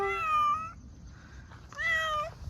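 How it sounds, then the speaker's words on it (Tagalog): A cat meows twice up close, a bright drawn-out call followed by a second one after a short pause, with no talking. "There's a cat."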